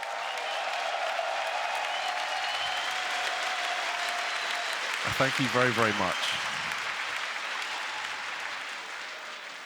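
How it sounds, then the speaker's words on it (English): A large esports crowd at IEM Katowice 2019 applauds and cheers for the caster Vince. The steady applause fills the hall the whole time while someone briefly speaks over it. "Can we get a big cheer for Vince and the job he's done?"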